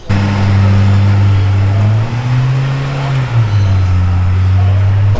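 A Porsche 912 drives close by with a loud, steady engine drone that rises slightly in pitch midway and then settles back, with faint speech underneath.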